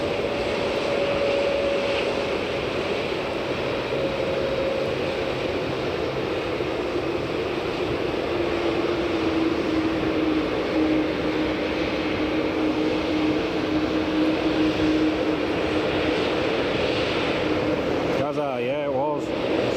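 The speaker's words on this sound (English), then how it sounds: "France A220 just taxiing along as well now." An Air France A220 jet taxis at Edinburgh Airport, a steady broadband engine roar with a whining tone holding throughout, loud and continuous, while people talk over it.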